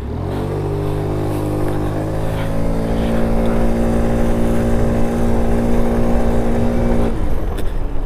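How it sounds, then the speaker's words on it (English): An 85cc big-bore Honda Metro scooter accelerates hard through a parking lot, its buzzing engine pitch climbing steadily for about seven seconds as it gains speed, loud and close, then cutting off near the end. "let's just do a quick acceleration, see how fast we can get up to"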